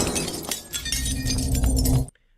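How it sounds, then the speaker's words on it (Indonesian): Glass from a framed photo shatters during an indoor fight, a dense crashing spill of breaking shards that rings on for about two seconds before cutting to silence. "Dan membuat foto Sekar pecah"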